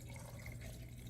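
Pickle brine poured from a measuring cup into a jar of refrigerator dill pickles, a steady, even liquid pour with continuous splashy filling sound, close and moderately quiet throughout.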